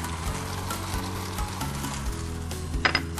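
Noodles with parsley, seasoned with salt, pepper and a splash of white wine, sizzle steadily in a pan while they are stir-fried, with soft scrapes of stirring and a brief clatter near the end.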